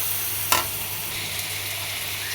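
Prawns go into a pan with lightly browned onion and fry with a steady close sizzle, marked by one brief clatter of stirring near the start.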